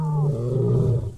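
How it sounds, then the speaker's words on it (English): A creature in the Path of Titans video game lets out a single deep, throaty roar lasting about a second, loud and close, sustained before tapering off abruptly, with no talking over it. "Can you roar at me? I'll roar back at you."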